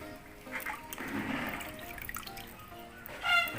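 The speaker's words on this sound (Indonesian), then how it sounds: "Siramnya sampai airnya menetes ya." Water from watering a potted plant splashes and trickles steadily for a few seconds, with drips and pattering close by from the pot, ending in a brief louder splash.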